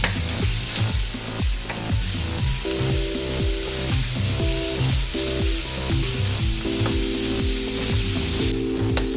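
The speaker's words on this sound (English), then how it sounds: "Throw the beef in there." Ground beef frying in a pan with garlic for tacos, a steady close sizzle running throughout alongside a busy layer of clinks and stirring, with a brief hiss toward the end.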